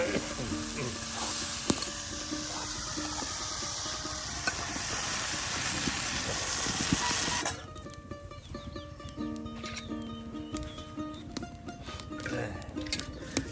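Food cooking in a covered pot on a village kitchen fire, a steady hiss and bubbling that runs loud at first, then softer after the lid settles, with light clinks and faint background sounds.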